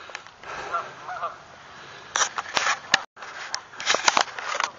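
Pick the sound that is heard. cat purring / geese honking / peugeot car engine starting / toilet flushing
geese honking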